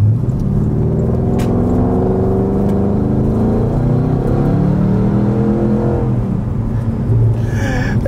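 A Porsche Cayenne Turbo with straight-piped exhaust idles with a deep, steady rumble, then the engine revs up and falls back, loud and close, with no talking over it.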